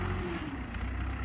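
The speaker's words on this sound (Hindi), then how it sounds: "ये ट्रैक्टर आती है 640 और पुराना मॉडल है" An old Fiat 640 tractor engine rumbles outdoors near a small village, a faint, steady low mechanical drone without clear rises or falls.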